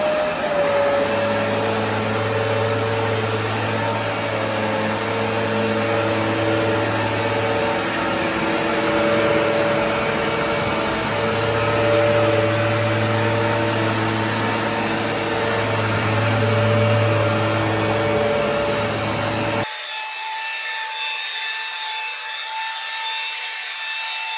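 Vax Dual Power Pet Advance carpet washer running steadily on carpet, a loud continuous motor whine with scrubbing brush noise, close and alone, cutting off abruptly near the end to a quieter hum.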